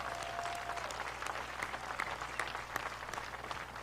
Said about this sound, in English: So I want us to all give them a round of applause again